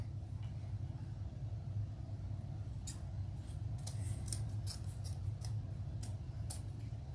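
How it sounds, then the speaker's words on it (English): Scissors snip through deco mesh for a green and gold tree wreath, giving a series of quick, crisp cuts in irregular bursts over a low steady room rumble. "Oh, these aren't my good scissors."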